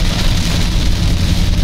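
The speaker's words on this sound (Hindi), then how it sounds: "कितनी तेज बारिश भाई साहब" Heavy rain pours steadily beside a highway in Moradabad, a loud, dense, continuous hiss of drops hitting surfaces with no talk.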